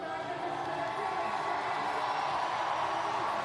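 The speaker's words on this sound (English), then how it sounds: "Listen to the crowd" A large arena crowd at a short track speed skating World Cup race in Seoul cheers in a continuous loud roar with whoops, while an announcer talks over it.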